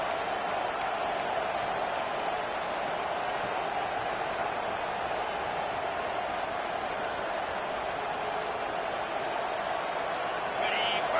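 A large crowd at an American football game roars steadily, a dense continuous wash of noise under a commentator's talk.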